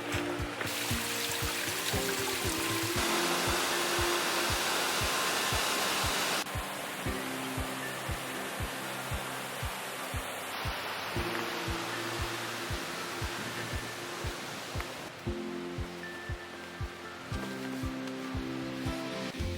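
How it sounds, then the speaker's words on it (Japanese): Steady, loud roar of a large waterfall at Bark Bay on the Abel Tasman Coast Track in New Zealand, a continuous broadband rush that fills the scene, with a regular low ticking pulse running beneath it. "バークベイ、すごい大きな滝の音が聞こえます。"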